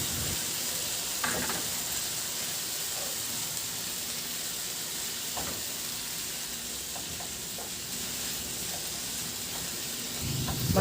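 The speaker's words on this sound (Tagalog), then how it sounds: "Ilagay ko na yung ampalaya." Bitter gourd (ampalaya) added to a pan with tomatoes, giving a steady soft sizzle and hiss of frying that lasts throughout, with a few faint clinks of stirring.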